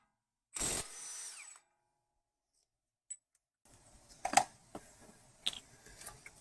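A power tool removing a 36 mm front strut nut on an Acura/Honda tubular strut, with one short loud whirring burst, then silence, then a stretch of rattling, clicking and clanking at close range.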